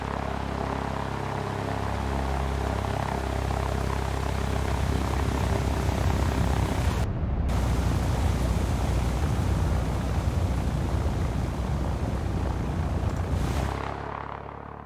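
A simulated airplane touches down on a runway in X-Plane 11, with a loud continuous engine and wind roar throughout that drops away abruptly near the end.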